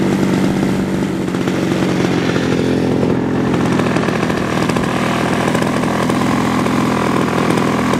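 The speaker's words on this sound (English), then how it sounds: "eagull Edge 540, maiden flight with Richard, petrol engine." A Seagull Edge 540 RC aerobatic plane's 26cc petrol engine runs steadily and loudly throughout, a continuous buzzing drone at the Amman Valley Radio Control Club field with no pauses.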